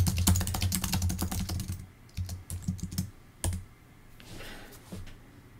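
Rapid keyboard typing clatters up close, dense at first, then thinning into scattered keystrokes and a few isolated clicks.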